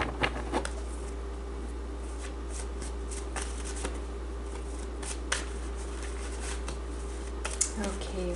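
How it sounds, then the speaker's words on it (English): Tarot cards riffle and flick in repeated soft shuffling bursts over a steady low hum, close and fairly quiet. "I feel like that was the final shuffle."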